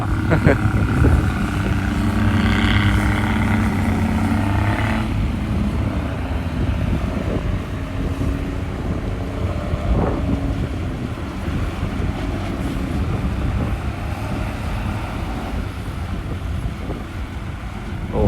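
A twelve-wheel dump truck approaches an excavator at a dirt worksite with a continuous heavy diesel drone and rumble. Strong wind buffets the microphone, and the sound stays loud and fairly steady throughout.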